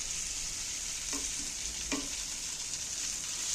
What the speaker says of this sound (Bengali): এইবার আমি ভাজা পটলগুলো তুলে দিচ্ছি এর মধ্যে